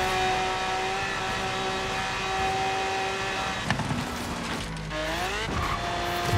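Forza Horizon 3 race car engine roaring at sustained high revs on a high-speed course, steady and loud, with pitch sweeps as it shifts and brakes, briefly joined by tire noise.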